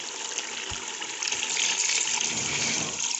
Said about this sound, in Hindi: अब हम इसमें हस्बे ज़रूरत पानी डालेंगे